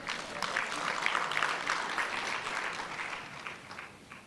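A conference audience applauds, steady dense clapping throughout at moderate distance, fading slightly toward the end.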